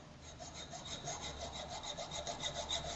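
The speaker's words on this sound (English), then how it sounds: "here the filing has to be done" Steady back-and-forth rasping of a hand file on a square metal workpiece being brought from 50 to 48 millimetres in a fitting shop, with regular strokes repeating about every quarter second, close and moderately loud, no talking.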